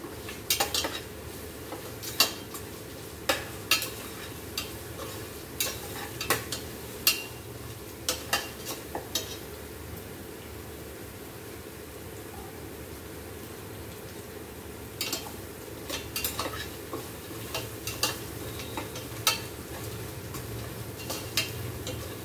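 Ginger and garlic fry in a steel pressure cooker for chicken biryani, with a soft steady sizzle and scattered clinks of a spoon stirring against the metal.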